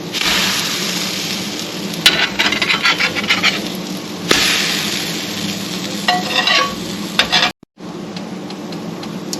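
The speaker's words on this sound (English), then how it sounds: "they've been frying for about 3 or 4 minutes" Food sizzles and crackles in a hot pan, with occasional scraping and clattering sounds over the steady frying noise.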